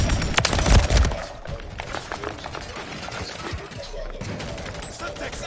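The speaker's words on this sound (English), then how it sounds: "Throwing a stun grenade." Stun grenade detonating in Call of Duty: Modern Warfare III, a loud burst followed by rapid crackling gunfire and impacts, heavy combat noise throughout.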